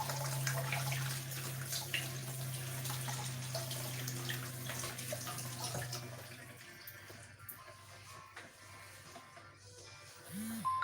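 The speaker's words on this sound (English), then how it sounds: "Of course, you need hot water to wash your piping bag." Hot water runs steadily from a kitchen tap to wash out a piping bag while piped biscuits (sablés) are being made, a continuous rushing stream that tapers off in the last few seconds.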